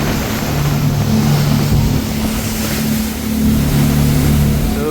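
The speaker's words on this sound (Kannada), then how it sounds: "ನೀರು ನೋಡಿ ಹೇಗೆ ಆಡ್ತಾ ಇದೆ, ಫುಲ್ ಮೇಲ್ ತನಕ ಬರ್ತಾ ಇದೆ ವೇವ್ಸು." A fast boat on the crossing to Nusa Penida island roars over rough sea waves, its engine drone and the constant wash of spray and water loud and close throughout, with wind buffeting.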